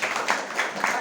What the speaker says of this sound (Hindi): प्रथम जन के लिए तालियां